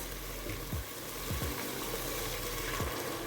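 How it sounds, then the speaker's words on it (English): Warm water is poured over beef in a cooking pot, a soft continuous splashing and trickle with a few faint clinks, quiet and close, with no talk. "Alright, so now I'm going to add some water, okay, to the beef."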